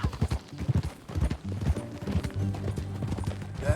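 Horse hooves clip-clop in a steady rhythm in Red Dead Redemption 2, close and clear, with a low musical score playing underneath.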